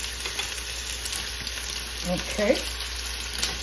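Lemon garlic butter lamb chops frying in a pan over medium heat give a steady, soft sizzle with faint crackles, while a voice speaks a single brief word partway through.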